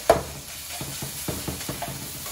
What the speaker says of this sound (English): I'm struggling to mix it.